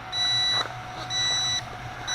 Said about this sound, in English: It has that annoying beep though while it does that.